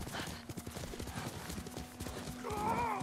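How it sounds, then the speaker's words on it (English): Horse hooves clip-clop at a steady gallop through the Ghost of Tsushima video game world, close and continuous, with a whinny rising near the end. "Let's go, horse."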